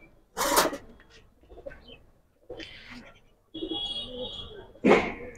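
Two Sapchila pigeons coo in short, soft bursts close by, their calls spaced between people talking nearby.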